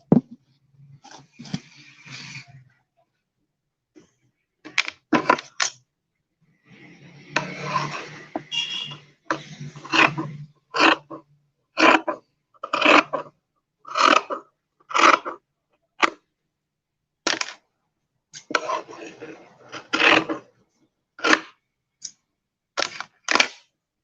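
Scissors snip repeatedly through fabric while a curved edge is trimmed away from excess cloth, a close run of short crisp clicks and rasps in uneven rhythm, with brief pauses between bursts of cutting.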